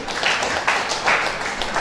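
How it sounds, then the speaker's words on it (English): Audience applause at an International Day of Persons with Disabilities ceremony as a guest from the Association of the Physically Challenged is recognised; steady, moderately loud clapping from a seated crowd, swelling in a few waves throughout. "Please round of applause for him"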